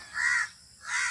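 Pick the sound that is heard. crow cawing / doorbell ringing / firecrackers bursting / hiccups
crow cawing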